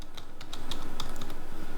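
Quick, steady keystrokes on a computer keyboard as a search is typed, close and clear, with crisp individual clicks and no talking.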